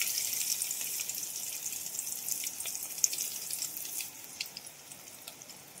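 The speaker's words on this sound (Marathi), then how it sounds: "तेल पण चांगलं तापलंय. आता मी टाकते यात लसूण." Garlic drops into hot oil in a pot over a wood-fired stove and sets off a bright, crackling sizzle with scattered pops. It stays close and steady, then eases slightly toward the end, with no talking.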